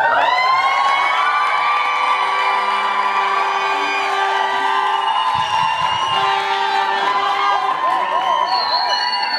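Graduation ceremony audience at an international school cheering, whooping and shouting, loud and sustained crowd noise with high-pitched voices and some clapping, close and continuous throughout.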